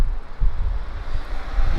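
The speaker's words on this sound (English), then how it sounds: "It's kind of windy out here" Steady wind rumbles against the microphone in low, gusty bursts outdoors beside a Tesla Model 3, with no voices over it.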